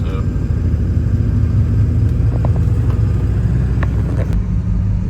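A tow truck's engine rumbles steadily and close as it pulls into an office lot, a low continuous drone with faint clinks and rattles, while voices talk over it.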